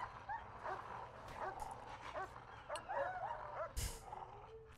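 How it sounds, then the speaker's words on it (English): Dogs in Prison Architect yelping and whimpering in pain, a string of short high yips and whines at moderate distance over a low steady background hum. "The sound of doggos getting hurt is the worst sound in the game."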